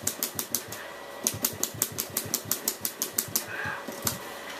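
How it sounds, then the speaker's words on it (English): Rapid button presses in a game rattle like a typewriter, a fast run of sharp, evenly spaced clicks with a short pause partway, loud and close. "I get called the typewriter after this because of the typewriter sound."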